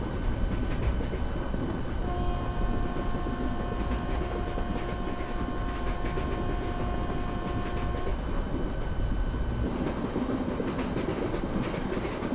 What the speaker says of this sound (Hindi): इसके हमारे साइड में चल रही है मीटर की इसकी ट्रेन